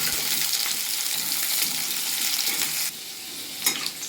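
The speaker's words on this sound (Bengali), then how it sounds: "তারপর পেঁপে ছাড়লাম। আগে এটা ভেজে নিই" Papaya and vegetables frying in hot oil in a wok give a steady, close sizzle with stirring scrapes, the hiss dipping briefly near the end before a sharp stir clatters back in.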